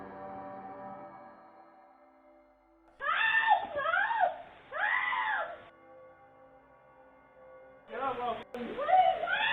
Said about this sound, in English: a man runs up behind her and grabs her, dragging her out of view of the camera while she can be heard screaming